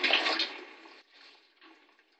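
A spoon is rinsed under running tap water, a close splashing burst at first that quickly drops to softer, intermittent trickling.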